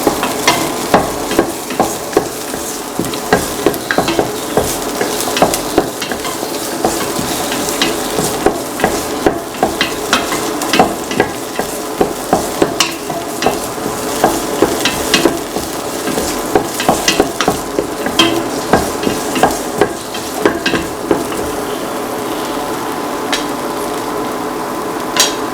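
Shallots fry and get stirred in a pan for a long stretch, a steady sizzle broken by repeated scraping and clacking of the spoon against the metal, with no talking.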